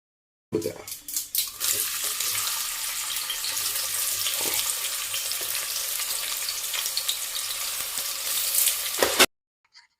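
Onion hits hot oil in a pressure cooker and sizzles in a loud, continuous hiss after a few initial crackles. The frying stays steady and close until it cuts off abruptly.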